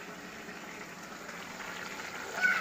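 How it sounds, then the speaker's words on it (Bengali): Curry simmers in a pot, giving a soft, steady bubbling hiss that stays even throughout and is heard alone. "এবং তরকারিটা ফুটছে।"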